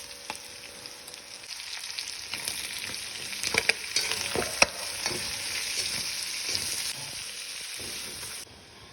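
Onion and garlic sizzle in a pot with cooked tripe, a steady close frying hiss broken by sharp spatula clicks and stirring scrapes, with no voices.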